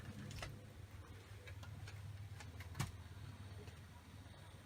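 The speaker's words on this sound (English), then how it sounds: "You can hear her ticking over, quite literally, but she is still nice and quiet." A Bachmann Branchline Plasser tamper model train's motor ticks over very faintly, giving a run of light, fairly regular ticks above a steady low hum, with one slightly louder click.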